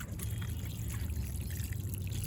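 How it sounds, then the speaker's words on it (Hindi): Water poured from a container onto soil around a freshly planted potted plant, a steady soft splashing trickle that runs continuously and close by, with no voices. "तो अब इसमें हम क्या करेंगे, पानी डाल देंगे।"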